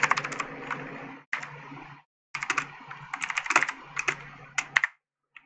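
Rapid bursts of typing on a computer keyboard while entering code, with dense clattering keystrokes in irregular runs broken by brief pauses, close and clear with no talking.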